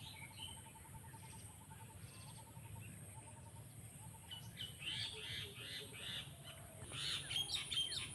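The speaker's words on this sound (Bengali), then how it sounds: "পাখির কিচিরমিচির আওয়াজ," Birds chirp and tweet in the trees beside a dead river in the Bengal countryside. The calls are faint, scattered and repeated, growing busier toward the end over a quiet rural background.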